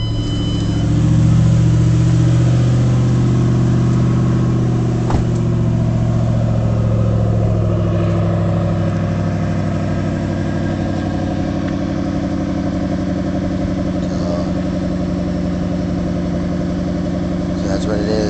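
A car engine fitted with its stock muffler idles with a steady, close low rumble, swelling briefly as it revs, then settles back to an even idle.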